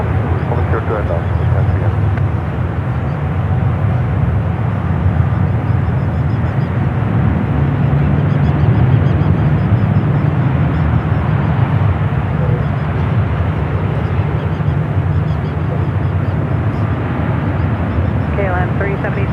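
A United Dreamliner airliner rolls for takeoff down runway 28 left at San Francisco airport, a steady, loud jet-engine roar lasting throughout, with radio chatter and a voice talking over it.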